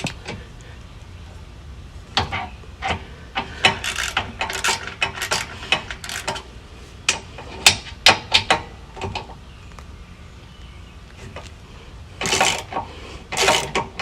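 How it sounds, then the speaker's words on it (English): Nuts being loosened on the bolts of a trailer tongue jack, a string of sharp metallic ratcheting clicks and clanks arriving in irregular bursts, fairly close and loud over a quiet background. "we are going to loosen the nuts"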